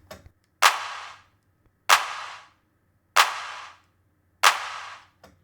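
Four evenly spaced claps, each a sharp burst of gated reverb cut off abruptly by a noise gate, hit loud and isolated with near silence between them.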